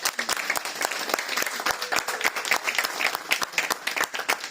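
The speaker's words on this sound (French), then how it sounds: "Nous voulons encore applaudir pour vos participations." A congregation applauds during a Sunday church service, a dense patter of many hands clapping continuously for several seconds, moderately close and with no talk over it.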